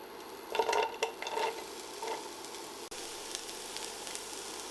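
Onions sautéing in a pan for lentil dahl, a steady close sizzle with brief stirring scrapes early on, continuing evenly to the end.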